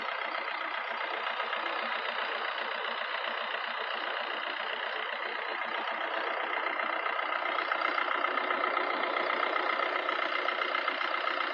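Diesel engine of a 2017 Maruti Swift Dzire VDI idling steadily, a smooth, even mid-range hum with faint hiss that holds constant at moderate level throughout, no voices.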